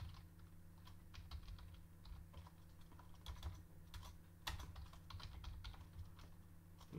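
Continuous typing on a computer keyboard while editing an Android Studio project, rapid uneven clicks over a low steady hum, close with no voices.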